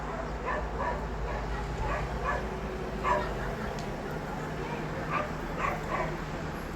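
Several dogs bark and yip at a distance in repeated bursts, heard from a balcony, faint beneath a low background hum, with some talk mixed in.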